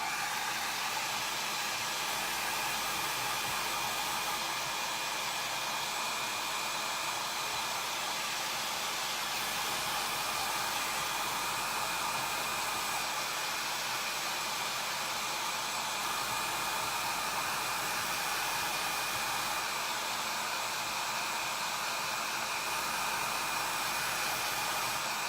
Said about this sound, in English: I'm going to take my hair dryer and I'm going to put this on low and just dry it a little bit.